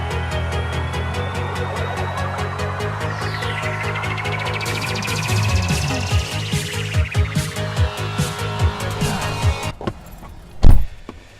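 A car being driven to a train station in Reno, Nevada, gives a steady interior engine and road hum. A run of regular ticks joins in partway through, and a brief thump comes near the end.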